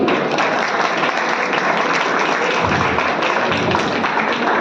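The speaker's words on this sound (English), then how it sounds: "Please welcome them with a huge round of applause" Dense, loud applause from an audience welcoming the core team onstage at the GDSC inauguration at Lokmanya Tilak College of Engineering, continuous and even with no speech.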